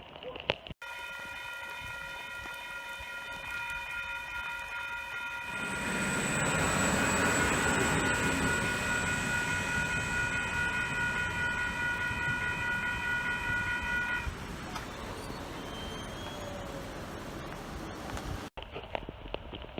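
Rain-soaked ambience gives way to the Endeavour train rumbling past with a sustained whining tone, loud for several seconds before fading back to quiet.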